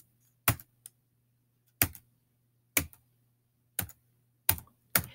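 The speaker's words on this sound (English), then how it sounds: "I'm going to type in the code for Ms. Johnson's class" A class code is typed on a computer keyboard: six or seven sharp, isolated key clicks spaced about a second apart, close and clear against a faint steady hum.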